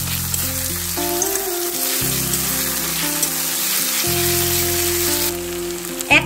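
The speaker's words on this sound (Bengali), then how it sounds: "আদা দিয়ে দিলাম, রসুনও দিয়ে দিলাম। আবারও নেড়ে নিচ্ছি।" Grated ginger and garlic sizzle in a hot pan as they are stirred, giving a steady hissing fry over a low hum with occasional faint scrapes, and a louder clink right at the end.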